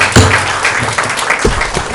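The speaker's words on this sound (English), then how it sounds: "Please keep your applause to yourself." Applause from the audience at a city council special meeting in Ojai, a dense, steady patter of clapping that fills the room and holds at an even level throughout.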